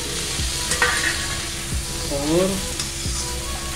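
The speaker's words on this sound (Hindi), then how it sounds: "न्यूट्री को भूनते हुए 5-7 मिनट हो गए हैं और अब हम इसमें अंदर डालेंगे शिमला मिर्च" Soya chunks and chopped capsicum sizzle and fry in a pan while being stirred, giving a steady close crackle with periodic scraping strokes of a spoon; a single spoken word briefly interrupts.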